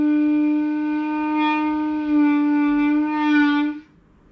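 A clarinet plays a note with the first finger not fully covering its hole, so air leaks: a sustained reedy tone for nearly four seconds, with slight wavering and breathy brightening partway through, played alone.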